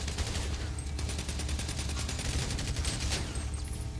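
Rapid bursts of gunfire fill a multiplayer shooter firefight in Extraction, with steady crackling volleys and sharp cracks running throughout the match.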